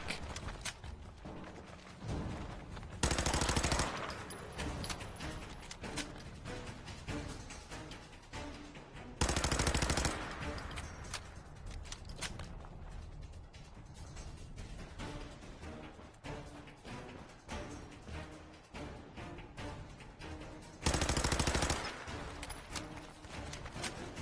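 Automatic weapon fire in the video game Fallout 4 comes in several loud, dense bursts spaced several seconds apart, with scattered clanks and mechanical clatter in between.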